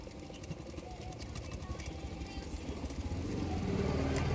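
Sewing machine stitching folded blouse fabric for a double katori blouse, a continuous motor hum with a fast rhythmic stitching pulse that grows louder toward the end.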